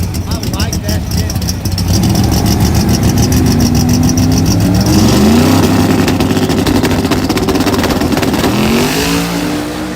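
Drag race cars at a Texas radial event roar hard under full acceleration, a loud sustained engine note with rising pitch sweeps, crowd chatter and voices mixed in throughout.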